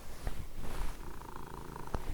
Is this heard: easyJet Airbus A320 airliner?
no